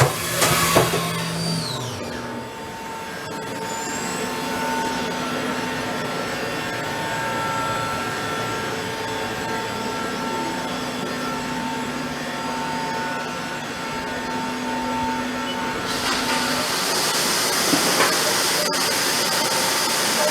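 Haas VF-4 vertical machining center spindle spun up to its full 10,000 RPM, a steady high whine with a constant airy rush, holding evenly throughout and growing brighter near the end.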